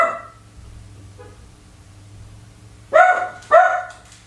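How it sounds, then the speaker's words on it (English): Two sharp, loud dog barks come in quick succession near the end, after a stretch of quiet low hum. "There go the dogs."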